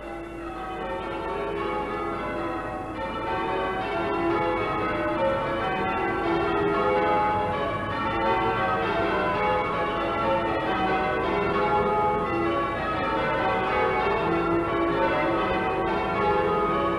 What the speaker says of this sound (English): stands the parish church of St. Cuthbert, whose 8 bells we now hear.